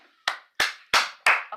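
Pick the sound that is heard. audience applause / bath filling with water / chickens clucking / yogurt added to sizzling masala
audience applause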